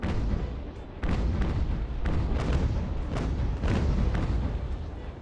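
Sailing-ship cannons firing in Ultimate Admiral Age of Sail, a dense run of deep booming shots and rumbling blasts overlapping one another in a continuous barrage.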